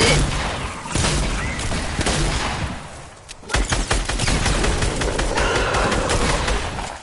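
Gunfire in a Fortnite-style battle game, loud bursts of rapid shots and sharp reports, a brief lull near the middle, then more dense firing through to the end.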